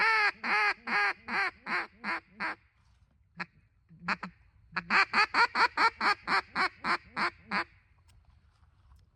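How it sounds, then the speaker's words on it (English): Handheld duck call blown in long, loud, bold quack sequences: a descending run of about eight raspy quacks, a short gap with a couple of soft notes, then a longer string of a dozen or more evenly spaced quacks, close and isolated. "You're going to be what we call highball, or big, long and loud quack sequences"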